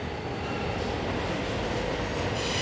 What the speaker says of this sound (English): That's right, it's a geometry train.